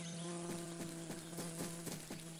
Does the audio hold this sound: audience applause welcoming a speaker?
no